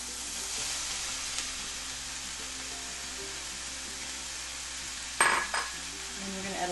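Mushrooms sizzle steadily in a hot pan with a constant close frying hiss. A brief clatter of a utensil sounds near the end, and no one talks.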